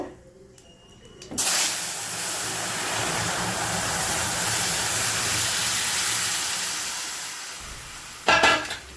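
Squash curry sizzles loudly in a hot pan as the squash goes in, a steady broad hiss that holds for several seconds, fades slightly, then flares again near the end.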